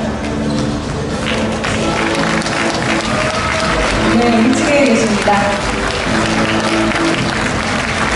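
Members at a Rotary district conference stand and clap loudly in a sustained, dense round of applause while a voice speaks over it.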